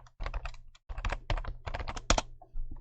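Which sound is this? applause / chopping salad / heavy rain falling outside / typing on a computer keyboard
typing on a computer keyboard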